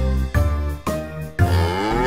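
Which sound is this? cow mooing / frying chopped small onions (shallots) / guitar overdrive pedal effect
cow mooing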